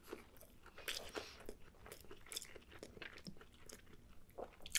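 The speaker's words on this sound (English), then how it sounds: "on the beautiful falafel here, crunchy brown on the outside" Someone bites into and chews crunchy, fried falafel, brown on the outside, up close, with repeated crisp crunches and wet chewing over nearly five seconds and no talking.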